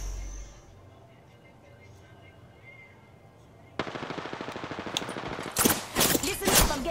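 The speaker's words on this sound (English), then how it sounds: "Listen up, I'm getting shot at." Apex Legends gunfire erupting after a quiet stretch: sustained rapid automatic bursts from about midway, growing louder with sharp close shots toward the end, with a voice speaking over the game.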